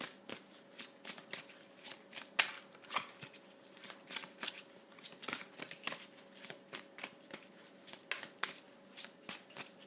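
Tarot cards are shuffled by hand in a quick run of crisp riffling bursts and soft slaps, repeated in an irregular rhythm over a faint steady hum, close and fairly quiet, no speech.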